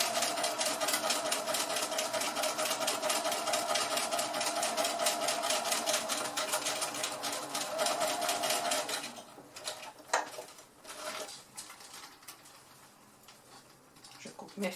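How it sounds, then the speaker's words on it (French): Sewing machine stitching a seam at 1 cm, a fast steady mechanical whir and rapid needle ticking that runs for about nine seconds, then stops, leaving faint clicks and handling noises. "Et je vais coudre à 1 cm. Arrêt machine, début et fin bien entendu pour que la couture soit solide."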